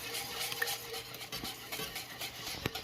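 A spoon stirs and scrapes along the bottom of a pot of thick mole sauce, soft rubbing strokes and a few light metallic clinks, quiet and close, with no one speaking.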